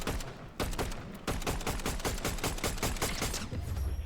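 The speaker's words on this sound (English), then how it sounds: "now there's a tree in our way. Not the greatest tree, but we can shoot it out" Rapid bursts of automatic gunfire in a battle royale video game as a player shoots down a tree blocking the way, loud, close and sustained, with no talking.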